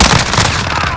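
Rapid gunfire in a Call of Duty: Modern Warfare multiplayer match, a dense, continuous burst of shots filling the whole moment at close range with no pauses.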